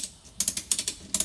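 A ratchet strap is cranked tight around a relocated car battery, giving short bursts of sharp, rhythmic clicking: a pause, then a run of four quick ratchet clicks, then two more, all close and loud with no talking.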